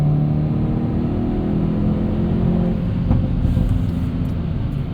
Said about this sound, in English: Look how fast those shifts are.